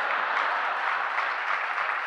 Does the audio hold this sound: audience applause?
yes